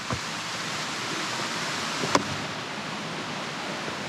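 A creek runs down a slope in Girrakool National Park, giving a steady, even rush of flowing water, with one brief sharp tick near the middle.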